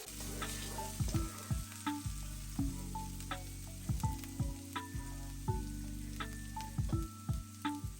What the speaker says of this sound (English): Once the oil is hot enough, we'll go in with our grated ginger.